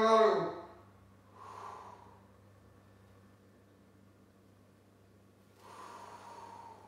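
A person exhales forcefully through the nose and mouth during a psoas strengthening exercise, one sharp breath followed by two softer, longer breaths, close to the microphone with a faint steady hum behind.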